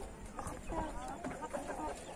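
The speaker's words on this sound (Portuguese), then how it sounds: "Aí tá a franga barbuda, preta, né?" A bearded black pullet chicken clucks in short, close murmuring bursts while a person talks nearby.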